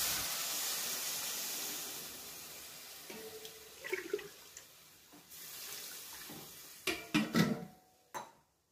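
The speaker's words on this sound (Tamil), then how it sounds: "நான் வந்து 2 கிளாஸ் தண்ணி வந்து ஆட் பண்ணிக்கிறேன்." Water poured into a pan of Kerala egg curry gives a soft continuous splashing hiss at first, settling into quieter sizzles and a few clinks of utensils toward the end.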